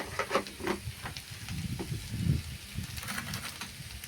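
Fine salt is stirred through potato chutney, a spoon scraping and shuffling with soft, uneven strokes over a faint sizzle close by.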